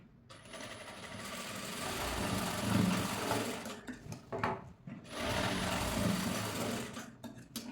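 A sewing machine runs steadily while stitching the unlined sleeves of a blouse, a soft continuous whirring hum in two stretches with a brief pause between them.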